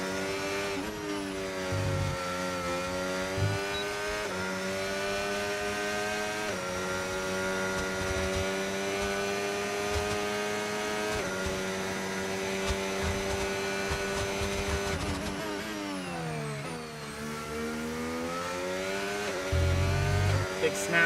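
A race car engine in a racing video game played on a controller holds high revs in third gear through a long left-hand corner, with a steady, buzzing drone that dips briefly and climbs again.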